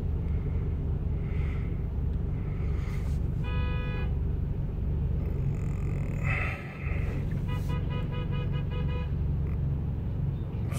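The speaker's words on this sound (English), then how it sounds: "So we have a impatient driver over there honking his horn." On a Chicago street in Little Italy, an impatient driver honks a car horn in several short toots, then a longer run of quick repeated blasts, all over a constant rumble of traffic and engines.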